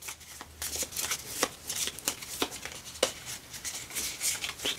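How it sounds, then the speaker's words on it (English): Cards are shuffled by hand, a run of soft riffling and tapping bursts, close and fairly quiet. "And then now you take your discard pile and you shuffle it up."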